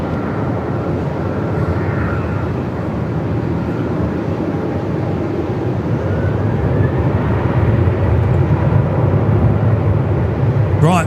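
Velocity airliner taking off from Melbourne Airport runway 34 in strong wind, a loud continuous jet engine roar that builds and holds steady, with no talk.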